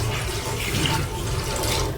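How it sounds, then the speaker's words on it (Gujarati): Water pours steadily and continuously into a pot on the stove for boiling pasta in a home kitchen. The splashing is close and loud throughout, with no talking. "તો એની પહેલાં પાણી રેડી દઈશું આપણે."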